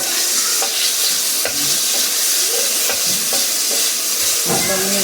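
Seafood pasta stirred in a hot pan with a ladle: a constant steamy sizzle with scattered scrapes and knocks of the ladle against the pan, close and fairly loud.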